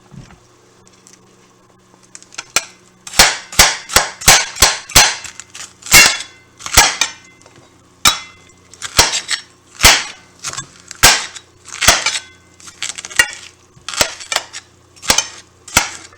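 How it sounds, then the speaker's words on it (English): Knife slicing through peppers on a cutting board for beef stroganoff, a run of sharp, crisp chops at an uneven steady rhythm, close and clear with no talking. "The peppers will be now sliced."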